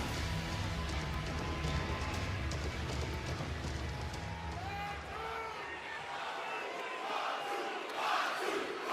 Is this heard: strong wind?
no